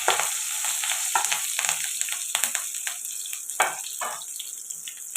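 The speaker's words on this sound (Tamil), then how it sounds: "இப்போ கருவேப்பிலை போட்டுக்கலாம் கருவேப்பிலை நல்லா பொரியல்" Curry leaves crackle and spit in hot oil in a pan, a steady close sizzle with sharp pops and spatters scattered throughout, no voices.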